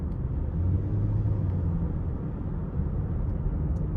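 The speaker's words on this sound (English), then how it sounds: "the test drive in the 13 Acura RDX, the 6-speed shifts pretty seamlessly" A 2013 Acura RDX with a 3.5-litre V6 and six-speed automatic on a test drive, a steady low engine and road rumble inside the cabin with no clear shift breaks, and no one talking.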